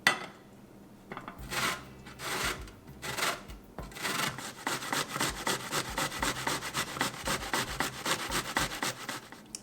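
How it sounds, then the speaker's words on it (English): Cauliflower being grated for paratha filling, starting with a few slow scraping strokes and building into a fast, even run of rasping passes. The grating is close and moderately quiet, with no voices. "we're going to go ahead and we're going to start grating the Gobi"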